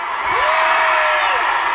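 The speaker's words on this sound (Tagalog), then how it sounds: "Sumigaw lahat ng galit." A protest crowd yells angrily against corrupt officials, one loud sustained shout rising above a dense, continuous roar of many voices nearby.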